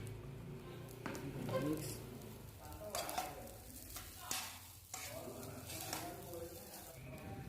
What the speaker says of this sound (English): Stir it up. Don't forget to add the eggs that we cooked before.